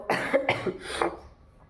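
Three harsh coughs come in quick succession, close and fairly loud, then fade into quiet.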